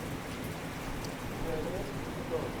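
Rain falling steadily in a faint, even hiss of drops on surfaces, heard from a distance with soft background voices beneath it.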